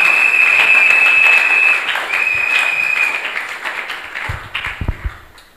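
A church congregation at a Sunday service applauds loudly and steadily, dense clapping that thins into a few scattered claps before fading out.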